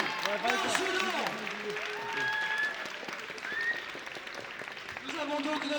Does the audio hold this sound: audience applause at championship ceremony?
yes